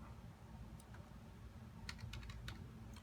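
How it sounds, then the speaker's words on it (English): Fast, light clicking of keys as code is typed on a computer keyboard, a quiet close-up patter over a low steady hum. "so I'm going to go ahead and type that in"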